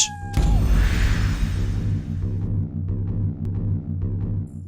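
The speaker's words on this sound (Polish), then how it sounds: "Jakiś kot." A cat meows in the video game Fallout Shelter, one clear, loud drawn-out meow over a steady throbbing game music bed that carries on alone afterward.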